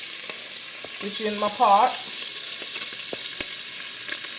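Hog jaw meat sizzles and crackles steadily as it renders in a pot, with a brief spoken remark partway through.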